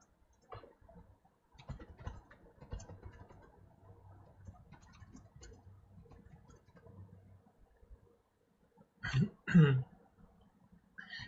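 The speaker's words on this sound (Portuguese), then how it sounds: "Desculpem aí essa tosse." Two loud, harsh coughs burst out close by near the end, after a stretch of quiet low rustling and faint tapping.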